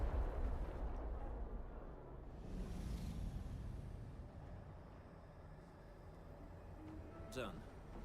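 Bomb blasts in the Arknights Endfield video game: deep rumbling explosions at the start, a low roll that fades, then a sharp crackling burst near the end, under faint game sound and talk.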